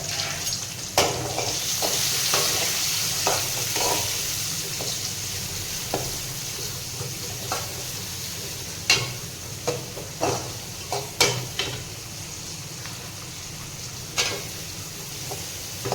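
Finely sliced onions fry with curry leaves and green chillies in hot oil, a steady close sizzle broken by a series of sharp clicks and scrapes from stirring.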